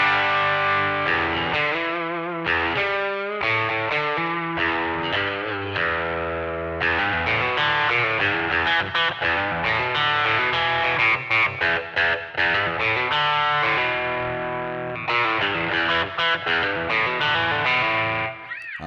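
An electric guitar played through overdrive into a Humboldt Electronics Simplifier DSM amp with Empress reverb, gritty sustained chords and riffs with short pauses, loud and close, no voices.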